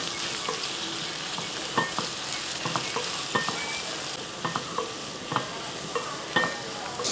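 Thinly sliced onions fry in a pan with a steady close sizzle. A spoon stirs them now and then, giving soft scraping taps against the pan. No one speaks.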